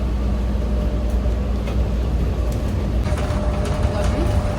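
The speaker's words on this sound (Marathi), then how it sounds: "आम्ही बसने जाणार आहे सियाटलला आणि सियाटल फिरायला खरं इझी आहे बसने" A steady engine rumble and road noise on a city bus riding toward Seattle, a low continuous drone with faint rattles and a voice in the background.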